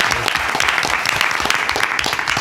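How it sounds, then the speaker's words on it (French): A live audience at a French comedy show breaks into dense, loud, sustained applause, with many hands clapping at once and no break. "un tonnerre d'applaudissements, s'il vous plaît"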